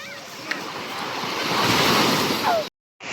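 Ocean surf on the sea at Batangas, at Lady Mery Beach in Lemery, rolls as a steady, full roar with wind buffeting the microphone. It swells toward the middle and then cuts off abruptly for a moment near the end.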